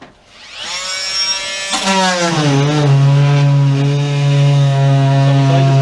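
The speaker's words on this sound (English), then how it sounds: "a special scraper here which we use just to help get the deadening off the floor" Special scraper strips sound deadening from the floor of a Murray Motorsport Fiesta ST build car, giving a steady, loud mechanical whine that drops in pitch as it bites in and then holds on.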